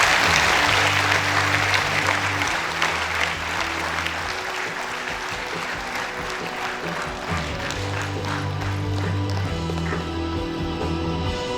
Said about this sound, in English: Please, louder applause to the audience.